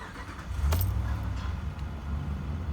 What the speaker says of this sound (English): Vehicle starts but then stalls out.